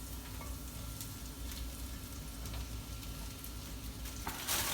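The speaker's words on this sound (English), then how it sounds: "now that the garlic's frying up in there," Soft, steady frying sizzle as garlic and bread cubes fry in oil, with occasional pops and light clatter, fairly quiet and close.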